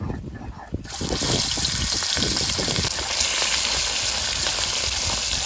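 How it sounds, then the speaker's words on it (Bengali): Large river rohu fish frying in oil: after a brief quieter moment, a loud, dense sizzle bursts up and continues steadily up close, with faint crackling throughout. "নদীর মাছ তো একটু হালকা লাল লাল করে ভেজে নেবো"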